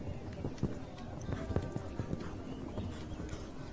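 Horse hooves clip-clop at an adult equestrian cup event, the steady, uneven footfalls of a ridden horse sitting amid a busy outdoor background.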